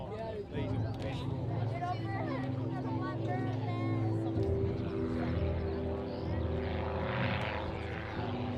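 Propeller aircraft flying a display over Tatenhill airfield in July, a steady engine drone with shifting pitch heard at a distance, with a commentator talking throughout.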